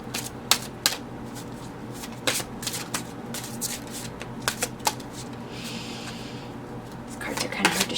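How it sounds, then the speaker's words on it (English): Large tarot cards being shuffled in quick riffling bursts, with soft taps and a faint voice in the background. "Shuffle because they're so big."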